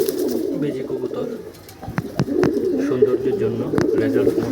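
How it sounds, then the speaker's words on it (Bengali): Breeding pairs of pigeons in a loft cooing close by, repeated low throaty rolling coos overlapping one another, with a few sharp clicks or wing taps in between. "বেজি কবুতর"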